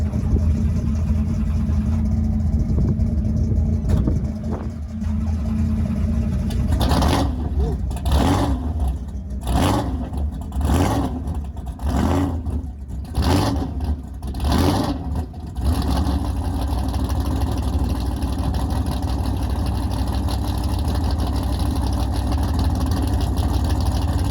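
At a car show, a lifted truck's engine idles loudly, then is revved in a rhythmic series of about seven sharp throttle blips before settling back to a steady idle.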